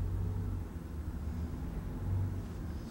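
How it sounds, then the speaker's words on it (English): Buses passing outside during an interview, a low, distant rumbling engine drone that swells slightly toward the end, faint and muffled with no talk over it. "Are we hearing buses? Of course. If you hear buses, I hear buses."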